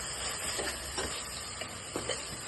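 Spice masala of coriander powder frying in a pan for Ambur chicken biryani, a steady soft sizzle and hiss with a few faint stirring scrapes, no talking.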